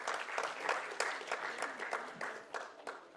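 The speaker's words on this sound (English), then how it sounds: "A big round of applause to all of them," A modest group claps steadily, the scattered hand claps blending into a light, even round of applause at a corporate CSR and sustainability summit.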